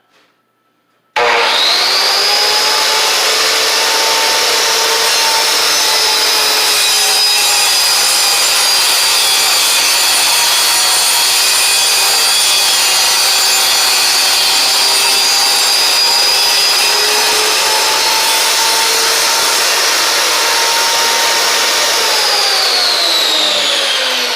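A vertical panel saw cuts through a wood cabinet panel with a loud, steady whine that holds for more than twenty seconds and then winds down at the end. No one speaks.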